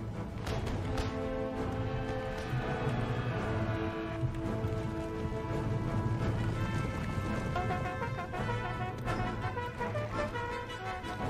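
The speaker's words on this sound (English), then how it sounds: "Regiment of horse is coming in." Cavalry horses gallop in a Napoleonic-era Empire Total War battle, a dense continuous rumble of hoofbeats mixed with musical tones and battle clamor, loud throughout.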